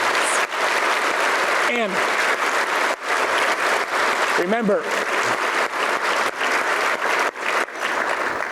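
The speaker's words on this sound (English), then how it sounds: "How about a big round of applause?" Audience applause at a policy conference, a loud, dense wash of clapping that fills the whole stretch, with a brief spoken phrase near the end.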